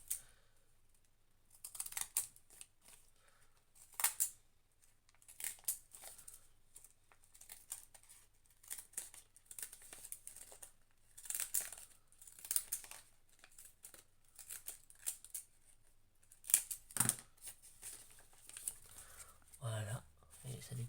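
Scissors cut thin scrap printer paper in a craft tutorial, producing a quiet, intermittent series of crisp snips and papery rustles spread across the stretch, close to the mic.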